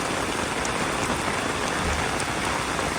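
Steady heavy rain pours onto a street in Singapore, a dense continuous hiss close around with no pauses.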